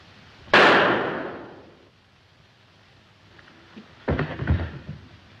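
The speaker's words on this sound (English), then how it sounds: "It went off. I took hold of the gun and it shot him." A single sharp pistol shot cracks out in a 1937 film scene, followed by a decaying ring, then a quieter burst of scuffling clatter a few seconds later.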